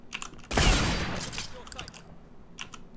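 A shotgun blast in the video game Counter-Strike: The Lost Levels, a single loud burst with a decaying tail, followed by faint scattered clicks and small impacts.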